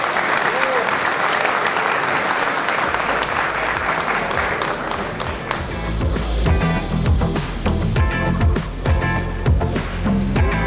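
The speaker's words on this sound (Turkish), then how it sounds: "bizler de çok kuvvetli alkışlarla şahitlik yapar mı efendim?" Wedding guests applaud loudly and continuously at a grand wedding ceremony, with music and voices rising underneath as the clapping goes on.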